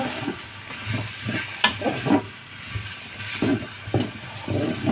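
Chicken with red and yellow peppers and onion cooking in a pan for poulet basquaise gives a steady close sizzle and frying hiss, with intermittent scraping and stirring knocks throughout.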